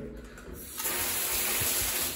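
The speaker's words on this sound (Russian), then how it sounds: "А если начинаешь забавлять, то прям поток струи очень мощный. То же самое касается и душа." A hotel shower in Alanya, Turkey, turned up to full pressure: quiet at first, then a sudden loud, forceful gushing jet of water that roars on steadily.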